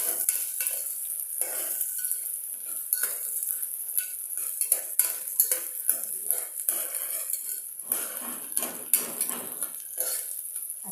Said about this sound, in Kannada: ಇದು ಸಹ ಸ್ವಲ್ಪ ಚೆನ್ನಾಗಿ ಎಣ್ಣೆಯಲ್ಲಿ ಫ್ರೈ ಆಗಬೇಕು